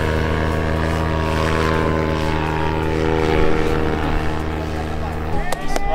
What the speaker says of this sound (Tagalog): Kuya Alex lumilipad na